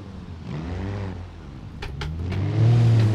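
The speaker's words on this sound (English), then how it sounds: "Go on, little rally car." A rally car engine in the driving game BeamNG revs and accelerates, a steady mid-pitched drone that rises in pitch and loudness toward the end, heard close with no talk.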